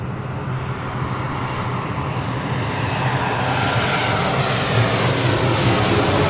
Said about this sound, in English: This is Southwest Airlines 979 coming in from Chicago Midway on a 737-700.